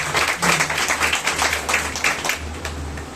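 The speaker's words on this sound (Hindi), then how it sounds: "सब ताली बजा के परमेश्वर को" A church congregation claps together during a Hindi-language service, a moderately loud burst of fairly rhythmic hand claps with a low background hum beneath.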